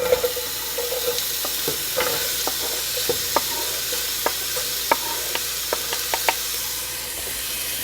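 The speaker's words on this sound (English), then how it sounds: "I'm going to saute the onions for about 7 minutes until they're nice and soft, and I'm going to stir them often" Onions sauté in olive oil in a large pot, giving a constant bright sizzle with regular clicks and taps from stirring, close and unaccompanied by talk.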